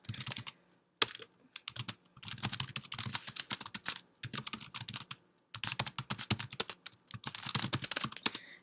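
Someone types on a computer keyboard while filling in an online sign-up form, with quick bursts of clicking keys broken by short pauses and no talking.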